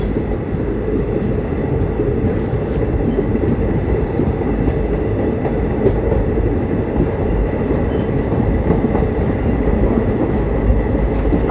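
Narmada Express passenger train rolling slowly into a small Indian station, heard from inside a coach: a steady, loud low rumble of wheels on rail with faint clicks and occasional squeal, continuous throughout with no talking.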